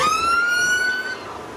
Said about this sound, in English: That's a police car.